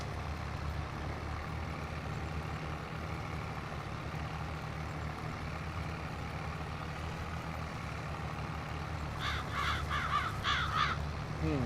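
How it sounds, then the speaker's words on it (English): Crows caw in a farming video game as they trail a cultivator working dark soil, a cluster of calls arriving late over a steady low machine drone. "Hear all the crows flying around the back of the cultivator, grabbing all the worms that get dug up."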